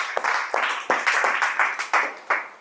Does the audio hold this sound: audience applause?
yes